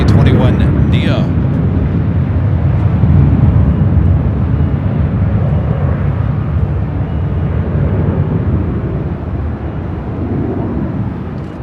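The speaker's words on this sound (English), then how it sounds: "Next arrival on 24 right, Delta Airlines. Flight 2610 coming in from Orlando, Florida. It's an A321neo." A Delta Airlines Airbus A321neo arrives on runway 24 right at LAX with a loud, steady, broadband jet rumble that slowly fades. A voice talks over it.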